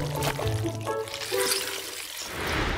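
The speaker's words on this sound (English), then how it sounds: "Here's some water to make cleaning the board easier!" Water is poured onto a classroom board to help clean it, a continuous splashing pour running steadily through the short clip with no talking over it.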